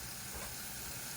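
Water poured into hot frying spices for a fish curry sizzles with a steady, even hiss that stays constant and fairly faint throughout.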